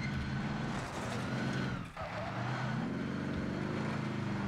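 A vehicle in the battle royale game Call of Duty Warzone, engine droning steadily at close range with a brief dip and rev change partway through, loud and continuous.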